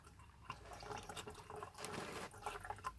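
Engine oil drains from the sump of a Daewoo Matiz into a container during a simple service, a continuous trickling, splashing liquid stream heard close up with occasional drips.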